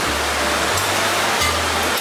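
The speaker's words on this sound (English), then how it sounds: "And you can add some warm water." Warm water is poured into a garlic stir-fry sauce for lobster, making a steady, close, hissing splash throughout that stays loud and even with no talk.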